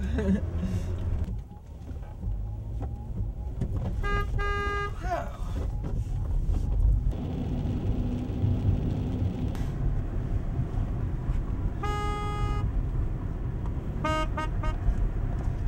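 Several short car horn honks sound over steady road and engine noise, with brief bursts spaced apart amid a continuous rumbling background.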